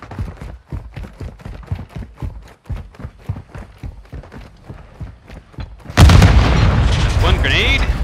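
A grenade blast in a Search and Destroy match of a first-person shooter game erupts suddenly and loud after rapid rhythmic footsteps, its roar lingering with debris noise to the end.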